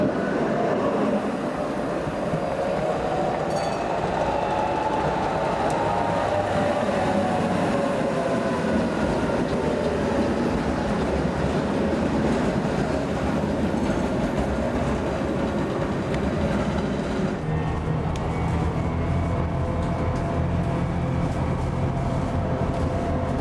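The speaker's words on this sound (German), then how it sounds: "Ich liebe leere S-Bahnen bzw. Straßenbahnen." Steady rumble of a Berlin S-Bahn train seen from inside the moving carriage, with no speech, a broad low roar and a shift in tone about three quarters of the way through.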